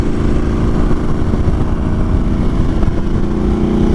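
A Harley-Davidson Sportster S cruiser engine rumbles loud and close while riding, a steady deep throbbing drone with slight rises in throttle throughout.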